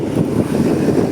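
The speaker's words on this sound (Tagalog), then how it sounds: "Tapos ng hangin." Strong gusts buffet the microphone outdoors on a walk to the market, with an umbrella caught in the wind; a steady low roar fills the whole stretch with no talk.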